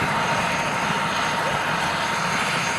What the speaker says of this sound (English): Helicopter coming from Arusha, right?